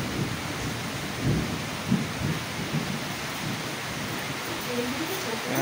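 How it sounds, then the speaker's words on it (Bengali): Heavy rain in a thunderstorm with lightning, a steady dense hiss of rainfall with a few dull low thunder rumbles rolling underneath, fairly loud and close, no voices. "এই দেখো কি জোরে বিদ্যুৎ চমকাচ্ছে, সাথে বৃষ্টিও পড়ছে"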